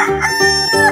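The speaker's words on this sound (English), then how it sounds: "Chicken." A rooster crows loudly and close, one full cock-a-doodle-doo lasting about a second, clear with no talk over it.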